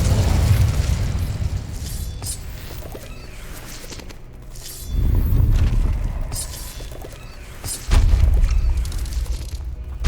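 Incendio fire spells burst in Hogwarts Legacy, three loud whooshing blasts at roughly five-second intervals, each flaring up sharply and then crackling down under continuous game noise.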